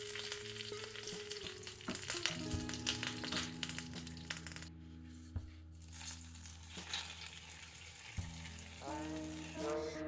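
Mustard seeds, dried chilies and curry leaves hit hot coconut oil for a jackfruit pulissery, giving a loud, continuous sizzle and crackle with clattering stirring, briefly easing midway before flaring up again.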